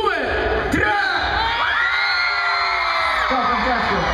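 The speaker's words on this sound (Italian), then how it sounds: "Volevo dedicargli un urlo vostro fortissimo al mio tre" A big carnival crowd shouts and cheers loudly together on a countdown cue, a dense, sustained roar of yells and whoops with children's voices mixed in.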